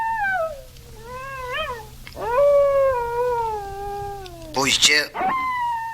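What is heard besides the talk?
wolf howling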